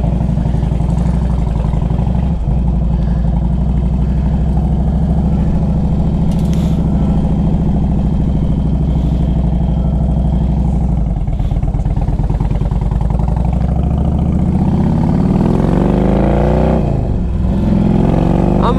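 A 2005 Harley-Davidson Road King Classic motorcycle idles with a steady, loud low rumble lasting throughout, with a few brief revs and mechanical clatter over the continuous engine drone.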